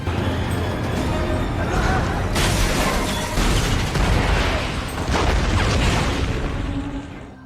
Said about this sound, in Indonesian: tiba-tiba terjadi ledakan di pinggiran jalan yang diakibatkan oleh ranjau darat